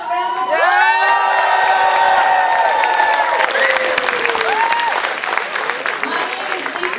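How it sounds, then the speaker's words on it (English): A big room full of people at an evening political rally applauds and cheers, loud and continuous with whoops and shouts in the crowd, and a voice rising above the noise early on. "Give yourself a round of applause."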